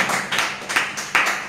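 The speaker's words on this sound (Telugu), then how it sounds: "గట్టిగా చప్పట్లు కొట్టాలి" A church congregation claps in time during a sermon, a few loud rhythmic bursts of many hands striking together in quick succession, close and reverberant, with no speech over it.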